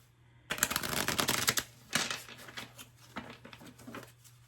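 Tarot cards shuffled by hand in a dense, papery riffle and patter, a long continuous burst followed by a few shorter bursts, close and fairly quiet over a steady low hum.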